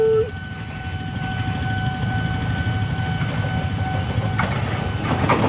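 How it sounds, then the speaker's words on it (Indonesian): The Jomlo passenger train passes close by on a busy line, a loud continuous rumble of wheels on rails with rhythmic clatter that builds toward the end. "Apakah kereta ketiga yang akan masuk? Ini dia, Jomlo."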